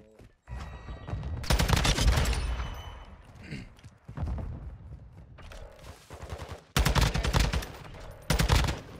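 Gunfight in Modern Warfare 2 ranked play, loud close automatic rifle bursts in several separate strings with short pauses between them and brief quieter stretches, no talk over the shots.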